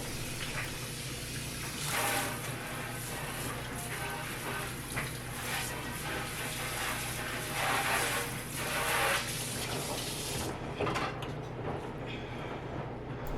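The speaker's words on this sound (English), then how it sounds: "in between dishes to turn off the running water" A kitchen tap runs steadily into a sink while dishes are washed, a continuous close hiss of splashing water with slight surges that thins out near the end.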